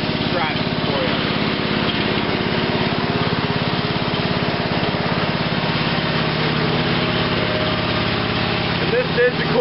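A small Briggs & Stratton engine on a 1987 Rally lawn tractor runs after a cold start, sitting in neutral with a steady, buzzy idle that stays close and loud the whole time.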